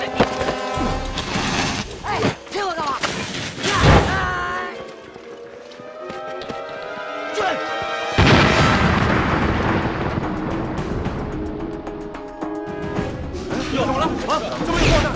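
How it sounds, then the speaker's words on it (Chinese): Loud blasts and crashing debris from explosions near an airport in a TV drama, arriving as heavy bursts over about fifteen seconds with a sustained roar in the second half and shouting voices mixed in. "爆炸声啊！"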